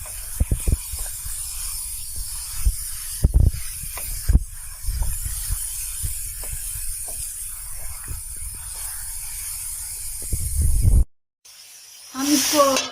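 Meat frying for Kyrgyz kuurdak in a pot about to be covered, giving a steady sizzle with scattered sharp pops and clatters, a brief dropout near the end, then the hiss returns.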